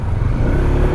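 A Honda CB150X motorcycle engine revs up close with a strong low rumble and a throaty, slightly uneven tone that stays loud through a brief burst, with no talking.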